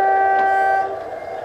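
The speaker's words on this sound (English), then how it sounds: "Blowing the horn for the crossing, and away he goes." Model railway train sounding a steady multi-tone horn for a level crossing on a layout, loud and close, holding for about a second before fading slightly as the train moves away.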